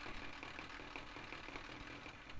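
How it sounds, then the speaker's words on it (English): A chainsaw effect buzzing through a Logitech Momo force-feedback driving wheel during a Project CARS test, heard as a faint, steady mechanical hum and rattle from the wheel motor with no voices. "Chainsaw."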